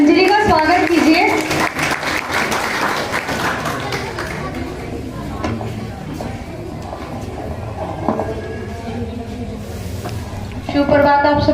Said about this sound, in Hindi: मैं चाहूंगी जोरदार तालियों से अंजलि का स्वागत कीजिए।